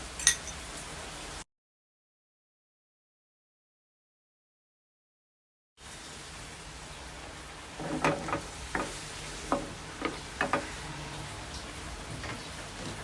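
Curry squid stir-fried with egg sizzles in a frying pan, broken by a few seconds of complete silence. The frying then returns with a string of sharp taps and scrapes from stirring, and nobody speaks.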